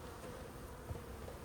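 Honey bees buzz around a nucleus hive in a steady, dense drone, faint and continuous with no talk.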